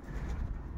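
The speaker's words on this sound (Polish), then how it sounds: "Jesteśmy tu w przedziale gołębnika gołębi młodych." Young racing pigeons coo steadily in the young-bird section of a pigeon loft, a dense, continuous low cooing from several birds close by.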